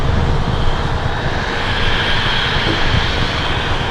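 A loud, steady roar of an airliner's engines at Los Angeles International Airport fills the air without a break, with no voices.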